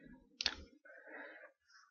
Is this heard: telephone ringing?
no